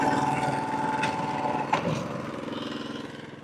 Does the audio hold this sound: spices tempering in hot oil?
no